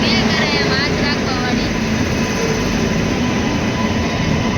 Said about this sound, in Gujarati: ટ્રેન નથી પણ ટ્રેનની અંદર ગાઈસ તો જો ટ્રેન આવી ગઈ.